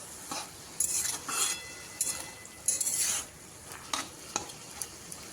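Greens being stirred in a frying pan while cooking a vegetarian dish, with spoon scrapes and clinks against the metal over a soft sizzle, in several short bursts.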